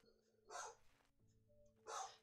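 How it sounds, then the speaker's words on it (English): A dog barks twice indoors, two short sharp woofs about a second and a half apart, fairly faint against a quiet background. "Okay, barky dog. You don't need to bark no more."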